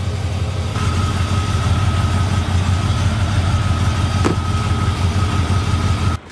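An old, rusty engine with a carburetor idles in a steady, loud, low drone that holds for several seconds and then cuts off abruptly.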